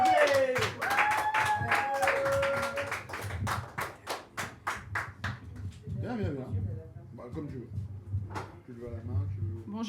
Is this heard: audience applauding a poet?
yes